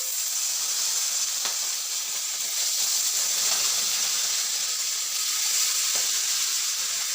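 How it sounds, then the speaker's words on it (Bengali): Fish pieces fry in hot oil in a home kitchen, giving a constant hissing sizzle with occasional sharper crackles, steady and close for the whole stretch. "তেলটাও গরম হয়ে গেছে তো দেখো মাছগুলো ভেজে নিচ্ছি"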